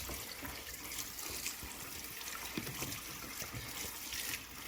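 Fuel poured into a lawn mower tank, a soft steady liquid trickle and splash running continuously, faint and close, with no voices over it.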